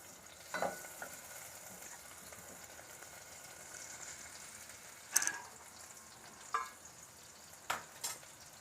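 Butter melts in a pan with a faint, steady sizzle, broken by a few sharp metallic clinks and scrapes of a utensil.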